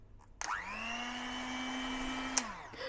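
An electric stand mixer whisking egg whites for a speculoos tiramisu: a close, steady motor whine that starts abruptly, holds an even pitch for about two seconds, then winds down.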